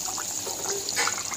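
Fried puti fish slipping into a pot of boiling broth, with a steady wet bubbling and a brief splashy swell near the end, moderately close and free of talk.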